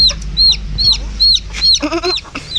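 Chickens clucking close by, a run of bright repeated clucks and chirpy calls in quick succession, loud against a low steady background hum, with a brief burst of rapid stuttering clucks near the end.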